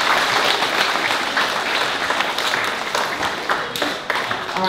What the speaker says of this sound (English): Let's give these lovely ladies a great big clap.